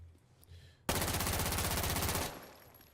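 Rapid automatic gunfire from a rifle fitted with a foregrip and compensator in Insurgency: Sandstorm, a loud sustained burst of about a second and a half that cuts off sharply, with no talking.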